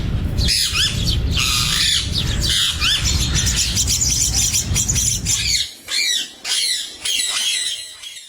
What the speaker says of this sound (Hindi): मेरे पास एक नायाब परिंदा जो अब आम शहरों में नायाब हो चुका है, यानी तोता।